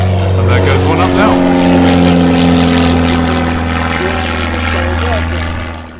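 A propeller aircraft taking off at the Wings & Wheels air show at Henstridge, a loud, steady engine drone that fades toward the end, with a voice heard over it.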